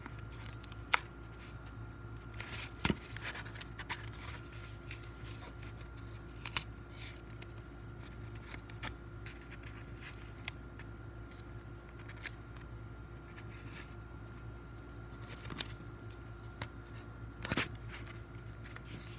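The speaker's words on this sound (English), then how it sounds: "take my scissors, put a few snips in that tape so that it tapes down to my gourd." Scissors make a few sparse, quiet snips in tape being fixed to a gourd birdhouse, each a brief click over a low, steady background hum.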